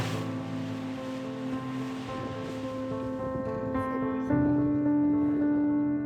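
Ocean waves roll and surge at a French campsite beach, a steady rushing wash mixed with wind buffeting the microphone and a layer of tonal background noise, growing a little louder near the end.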